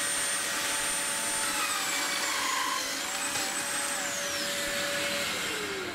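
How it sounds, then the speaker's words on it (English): Domino joiner cutting mortises straight through wooden drawer sides at a workbench, a steady loud whining machine drone with faint high tonal lines, continuous and with no talk. "we cut domino mortises straight through our drawer sides into the back and the front"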